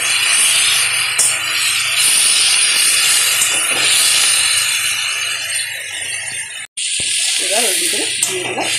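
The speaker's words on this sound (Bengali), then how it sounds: "দিচ্ছি সেদ্ধ করে রাখা চিকেনটা, দিয়ে মশলার সঙ্গে ভালো করে ভেজে নিতে হবে।" Boiled chicken frying with spices in a pan, a steady loud sizzling hiss that runs continuously, briefly cut off near the end before resuming, with a few light scraping touches.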